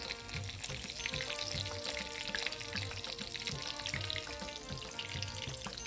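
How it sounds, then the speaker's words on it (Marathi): Garlic cloves and a spice masala frying in oil, a steady bubbling sizzle with faint stirring, quiet and uninterrupted by any voice. "लसूण आणि हा मसाला एकदम आपण तेलामध्ये मस्तपैकी हा मसाला भाजून घेऊया"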